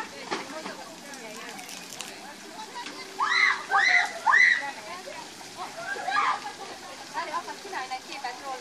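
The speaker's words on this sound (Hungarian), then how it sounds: "ahol elkezd folyni a víz" Water flows and splashes steadily at a spring in a soft, continuous wash, while a child and other people talk in short bursts over it.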